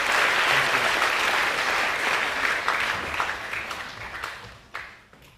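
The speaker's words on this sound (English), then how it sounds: "Can we please give our graduating QuatSIF recipients a round of applause?" A school co-curricular awards assembly applauds its graduating recipients with dense, steady clapping from a large audience that holds strong and then gradually thins and fades out.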